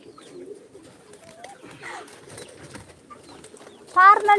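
Pigeons coo softly in the background, then one gives a louder, nearby coo near the end.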